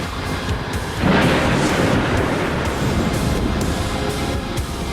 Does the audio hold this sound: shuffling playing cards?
no